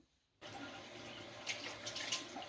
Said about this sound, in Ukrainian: Зараз я його ретельно змиваю